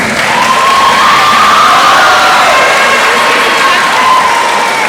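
A middle school awards day crowd cheers and applauds student award winners, a loud, continuous wash of clapping with shouts and whoops from children, a sustained high cheer running through the whole stretch.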